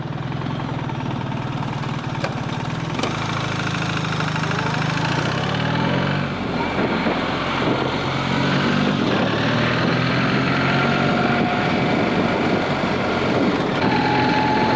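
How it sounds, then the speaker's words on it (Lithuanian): A BMW R1300GS Adventure motorcycle engine with automatic transmission drones steadily while riding, its pitch shifting as it accelerates, with rushing wind noise mixed in. "bet jis yra tas metalinis toksai BMW specifinis garsas"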